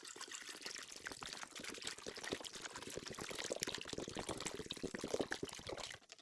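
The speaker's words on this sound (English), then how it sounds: "And I'm going to cover it with water." Water is poured into a pot over chicken gizzards in a continuous splashing, gurgling stream that lasts about six seconds and then stops abruptly. A faint voice may sit underneath.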